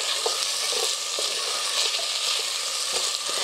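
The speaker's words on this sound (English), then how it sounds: "Just give it a quick stir." Blanched peas are stirred in a hot frying pan: a steady close sizzle with a few soft scraping strokes over about three seconds, no talk.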